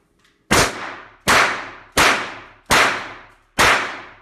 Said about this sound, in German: So, das waren die ersten 5 Shots Codex Gold